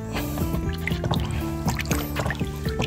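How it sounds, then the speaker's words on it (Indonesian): Roughly 90 litres of water mixed with a nutrient supplement being stirred in a bucket for spraying chili plants, giving continuous sloshing, dripping and squishing liquid sounds at close range, steady throughout with a faint background hum. "Nah ini kemudian ini diaduk lur"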